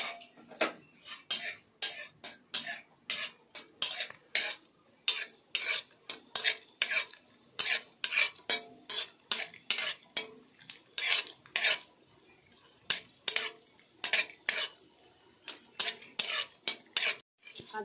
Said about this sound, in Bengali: কাজুটা প্রথমে ভেজে নিই।